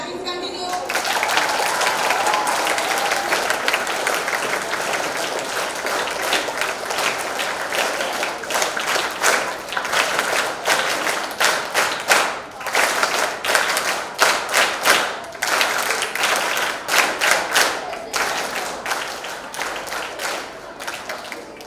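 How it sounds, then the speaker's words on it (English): School students applauding at a health and hygiene event, sustained loud clapping that turns sharper and more rhythmic, with crowd noise and speech mixed in beneath. "Let the clapping continue."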